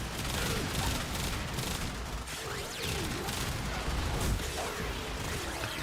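Video game gunfire crackles in dense, rapid bursts with brief lulls between volleys, loud and close throughout, as shots land for a headshot.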